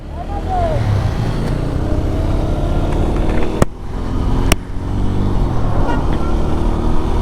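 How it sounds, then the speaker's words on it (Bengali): A GPX Demon GR165R motorcycle rides along a road, its engine droning steadily with heavy wind and traffic rumble, loud and close, with a couple of sharp clicks midway. "আমি রাইড করতেছি জিপিএক্স ডেমন দা করসা 2"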